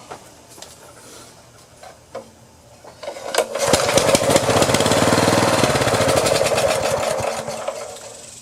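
After a few quiet clicks, a Honda tiller's small engine is cranked, catches, and settles into a loud, steady running chatter that holds for several seconds with no voices.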